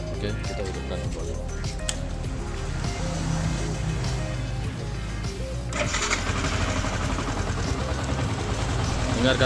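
A motorcycle engine runs steadily close by, rumbling without pause and getting a bit louder near the end.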